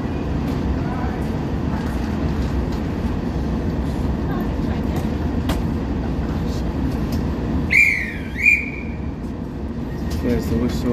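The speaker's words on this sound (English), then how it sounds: "There's the whistle." A guard blows a whistle on the platform at Nottingham as a CrossCountry Class 170 train prepares to depart. Two short, shrill blasts ring out in quick succession over the steady low rumble of the station and the idling train.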